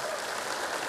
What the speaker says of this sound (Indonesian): Kita berikan tepuk tangan kepada beliau.